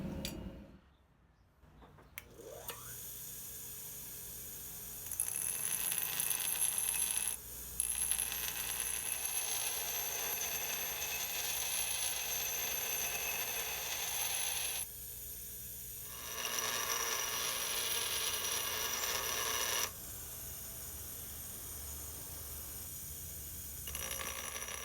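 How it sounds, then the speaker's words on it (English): The cutting edge of a hardy hot cutter is ground on a grinder in long, steady, rasping passes of several seconds each, separated by short breaks, with a faint high ring running through the noise. "I need to grind some more."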